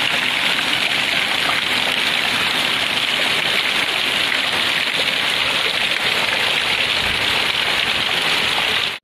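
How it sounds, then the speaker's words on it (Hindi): Heavy rain pours in a steady, dense hiss, loud and close, unbroken for the whole stretch with no talking. "माय गॉड, इतना बारिश।"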